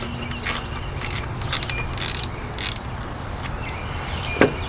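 Ratchet clicks and faint mechanical rattling while loosening the intake hose clamp on a 2022 Honda Civic, several short bursts of clicking, fairly quiet, with one sharper metallic tick near the end.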